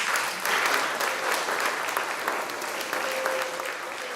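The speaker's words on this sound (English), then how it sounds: "let's give a round of applause for Mr. Bigno and his strings." A school concert audience claps for the strings teacher at an elementary spring concert, steady close applause filling the whole stretch with slight swells and a few voices.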